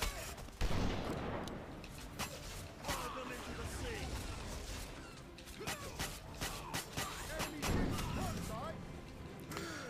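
Cannon fire in the pirate video game Captain Blood, with repeated booming blasts and a continuous din of battle sounds running under excited talk from a player.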